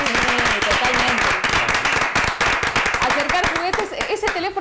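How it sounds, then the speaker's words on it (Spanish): Clapping breaks out at a small gathering during an interview for a children's foundation in Santa Fe, loud dense claps with voices talking over them throughout. "un aplauso"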